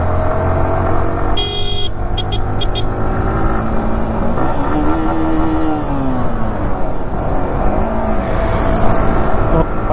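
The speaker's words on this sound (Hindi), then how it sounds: "बाकी पीछे अपनी बाइकें आ रही हैं।" A group of motorbikes rides along a rough mountain road toward Kasauli, a continuous loud engine drone with rising revs, a brief horn toot and wind noise throughout.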